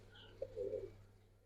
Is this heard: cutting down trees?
no